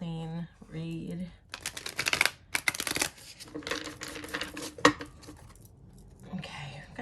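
Tarot cards being shuffled, a burst of crisp riffling clatter in the middle, framed by someone speaking briefly before and after, all close and fairly quiet.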